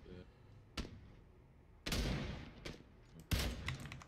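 Several distinct gunshots ring out in PlayerUnknown's Battlegrounds on the Miramar map: single loud cracks with echoing tails, spaced a second or more apart, while players talk quietly underneath.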